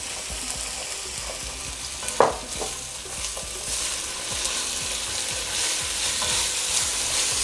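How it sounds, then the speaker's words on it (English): Chopped onion, parsley, green onion and garlic sizzle in hot oil in a pan, a steady close crackle with a sharp spitting burst as the herbs hit and occasional stirring scrapes. "So I am going to drop my herbs in here, which is onion, parsley, green onions,"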